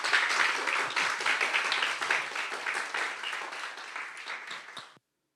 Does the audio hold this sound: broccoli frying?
no